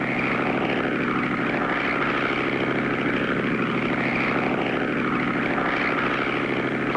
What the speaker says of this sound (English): Clutch and Company make pass after pass up and down the rows of cotton until they reach the final row